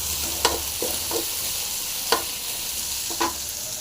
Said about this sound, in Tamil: வெங்காயம் போட்டு வெங்காயம் நல்லா ஃப்ரை ஆகணும்